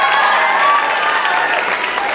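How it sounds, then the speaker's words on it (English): Loud, dense applause and cheering from a school theatre audience for young performers after a Wizard of Oz production, sustained and close throughout with scattered shouts. "Clap for these kids!"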